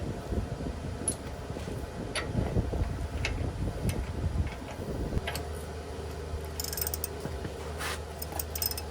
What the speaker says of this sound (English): Now we're just gonna slowly begin tightening it.